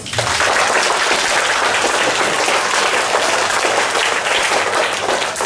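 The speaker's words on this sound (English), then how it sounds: "they deserve a very big round of applause" An audience at a children's declamation competition breaks into a steady, dense round of applause, loud and continuous from start to finish with no voices over it.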